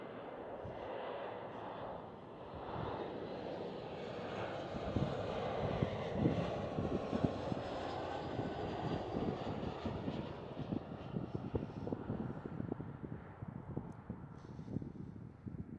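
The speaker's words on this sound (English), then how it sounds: "Next one up for an arrival here is a KLM Cityhopper" A KLM Cityhopper Embraer E175 arriving at Schiphol, a continuous jet engine roar with some wind noise, swelling slightly in the middle then holding steady, fairly near with no talk.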